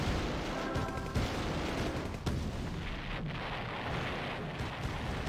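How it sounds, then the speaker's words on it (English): In the Red Alert video game, C4 charges and gunfire hit Grizzly tanks, producing a dense, continuous barrage of distant-sounding booms and rattling shots with sharp blasts standing out. "Commando managed to get C4 on two of the Grizzly tanks there."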